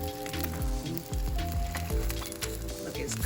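Meat on the bone sizzles steadily as it cooks on a grill, a continuous loud crackle and hiss with a rhythmic low thumping beneath it, no voices.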